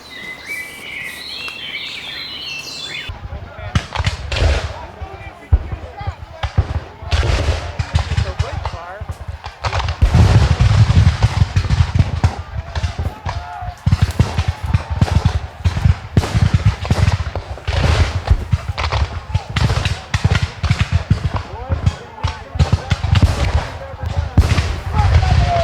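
Musket gunfire at a historical battle reenactment at Jumonville Glen, many sharp cracks and pops spread out irregularly, some near and loud, others distant, with narration speaking over the shots.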